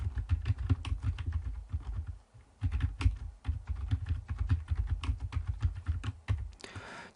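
Rapid, continuous keystrokes clatter on a computer keyboard as a title is typed into a word processor, close and fairly loud, with a brief pause partway through.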